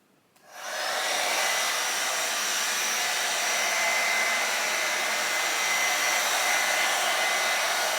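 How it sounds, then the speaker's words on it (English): An Envy 3-in-1 Airstyler switches on and blows on high heat with a low fan setting, giving a steady, close, even whoosh of hot air after a brief quiet start. "I have it on high heat. I'm going to put it on a low fan, make sure my cool shot's off"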